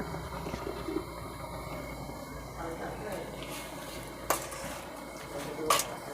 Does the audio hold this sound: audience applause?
no